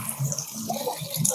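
A small stream trickles and splashes along a forest pilgrimage trail on foot, a continuous close rushing of flowing water.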